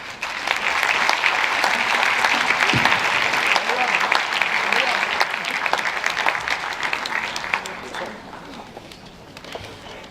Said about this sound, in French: Merci à tous, encore une fois, sous vos applaudissements.